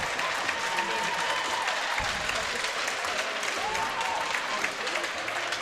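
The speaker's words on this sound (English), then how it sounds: "They're greeted by a roaring Auckland crowd." A roaring ice hockey crowd in Auckland applauds and cheers at a women's league game, with dense, continuous clapping and crowd noise filling the arena throughout.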